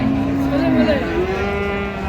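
A cow lets out a long, low moo close by, rising and falling over a murmur of crowd noise at a cattle market in Ambari, Dinajpur.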